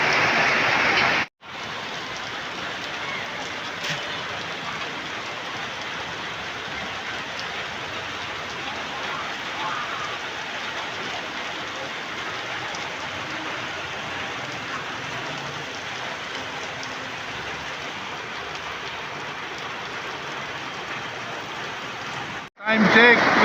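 Heavy rain pours down in a steady, dense roar on a dark evening, continuous and loud throughout with no break in the downpour.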